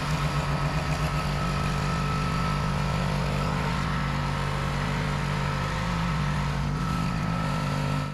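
Predator 212cc horizontal-shaft engine fitted to a 17-year-old tiller runs at a steady, loud drone throughout, with a constant low throb and no speech.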